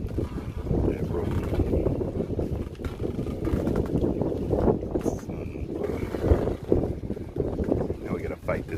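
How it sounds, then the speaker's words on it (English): Strong wind blows steadily past the microphone beside a boat tied to a piling, a continuous loud roaring rumble that buffets throughout with no break. "Now we gotta fight this goddamn wind."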